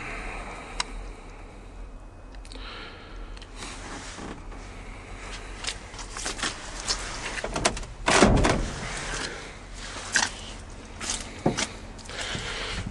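Doors on a Chevy S10 project truck are worked, with a series of creaks, latch clicks and thuds scattered across the span, including one heavier slam in the middle, close by with no talking.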